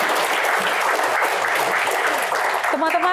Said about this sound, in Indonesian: tepuk tangan untuk Pak Jaksa Agung